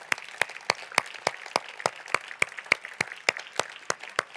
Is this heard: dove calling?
no